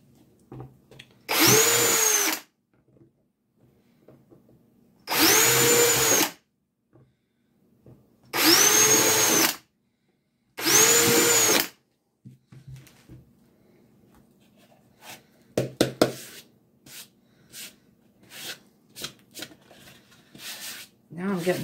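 A power drill whirs loudly in four separate bursts of about a second each, drilling holes in plastic pots, followed by rustling and scraping with a few sharp knocks.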